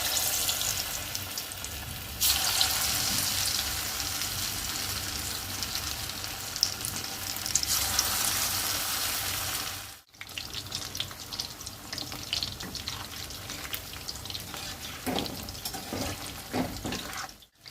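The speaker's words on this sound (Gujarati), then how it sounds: "હવે આપણે પનીરને ફ્રાય કરી લઈએ." Paneer cubes frying in hot oil on medium heat for paneer 65, a strong, steady crackling sizzle close by that cuts off abruptly midway, then resumes with scattered spatters and sharper pops, no voices.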